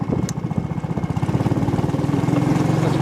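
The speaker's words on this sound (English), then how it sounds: "it was just the motor revving up" A go-kart motor revs up with a steady, pulsing engine drone, close and loud and building slightly over three seconds, with no talk.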